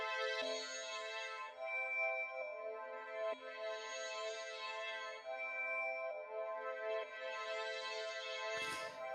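Sustained synthesized strings with a wide, spacious modulation effect applied in Ableton 12, a continuous layered harmonic pad swelling and shifting slowly, with a brief noisy burst near the end, no talk.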